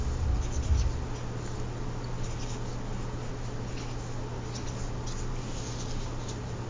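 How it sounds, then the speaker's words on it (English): A pen or marker scratches across paper, writing a number onto a place value chart in short, quiet strokes over a low background hum. "I'm going to write it on my place value chart."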